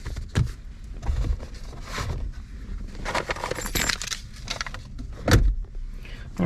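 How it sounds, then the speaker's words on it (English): Keys for a 1989 Lincoln Mark VII LSC jangle in a few short metallic bursts spread across several seconds, fairly close, with handling noise in between. "Got Lincoln exclusive keys."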